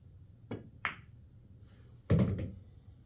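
Pool cue strikes in an 8-ball game shot left-handed, a few short sharp clicks and knocks spaced apart, with a louder, fuller knock near the end as balls collide, close and fairly quiet.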